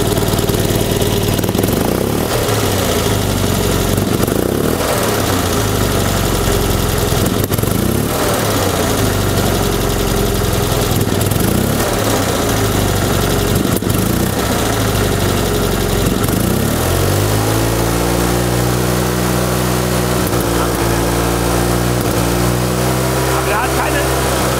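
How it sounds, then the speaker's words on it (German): Engine of a 1974 Fiat 500 classic car with a misfire, idling steadily and loud throughout, then revved near the end as its pitch climbs and holds; people talk over the engine in the first part. "Jetzt gucken wir mal, Gas geben, ob hier was aussetzt."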